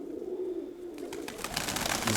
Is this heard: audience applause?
no